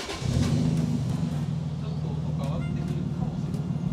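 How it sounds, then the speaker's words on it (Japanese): A car engine catches and settles into a steady, close, rumbling idle that continues evenly to the end. "エンジンかけますよ。"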